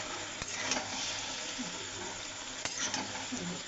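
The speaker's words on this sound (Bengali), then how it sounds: "সবজিটাকে ভালো করে কষে নিই" A spicy curry of green banana, papaya and potato fries in a pan while being stirred, a steady close sizzle with occasional scrapes and knocks of the spoon.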